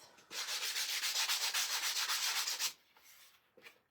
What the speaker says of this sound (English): I am just sanding everything. I like to make sure that all my edges and everything is smooth.